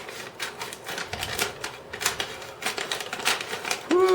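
Crisp, irregular snips and crunchy rustles of scissors cutting through a paper bag, close by, with a brief tonal squeak at the end.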